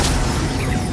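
A Confringo fire spell from Hogwarts Legacy bursts in one loud, dense blast that fills the whole moment, with a low rumble and broad crackling hiss carrying through to the end.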